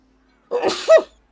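A single short, sharp human sneeze, close and loud, with a breathy intake and forceful burst lasting under a second, alone with no other sound around it.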